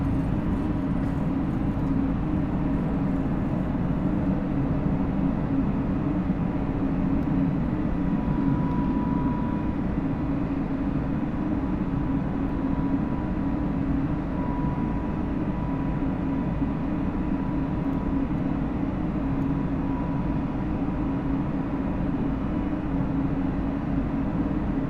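A simulated Airbus A32NX airliner climbing out after takeoff in Microsoft Flight Simulator 2020, a steady loud engine roar with a deep low rumble and faint tonal whine, unbroken throughout.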